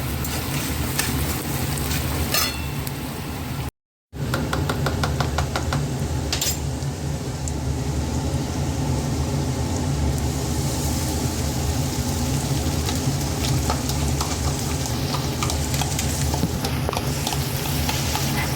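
Onion, ginger, garlic, tomato and green chilli paste frying in a pan, a steady close sizzle with scraping stirs and occasional clinks of the pan, continuing throughout with no talking.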